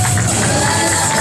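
A crowd at a luau performance in a community ballroom cheers and shouts loudly and steadily, a dense wash of voices with no pause.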